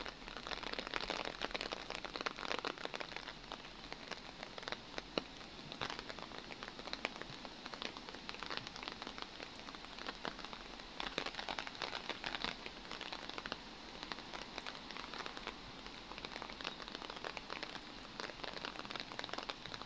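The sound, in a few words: rain falling in a park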